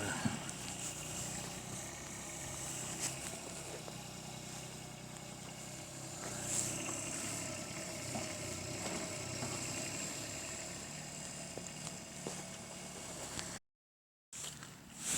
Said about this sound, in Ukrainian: Поки працює маленький екскаватор, фундаменти роблю.